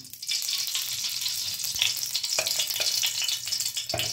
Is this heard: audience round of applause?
no